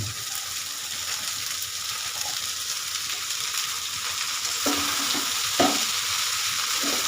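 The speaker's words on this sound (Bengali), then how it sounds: "অল্প অল্প করে বাঁধাকপি দিয়ে নেড়ে চেড়ে নিতে হবে।" Cabbage frying with spices in a pan while being stirred, a steady close sizzle with scraping stirring strokes, for a Bengali cabbage ghonto dish.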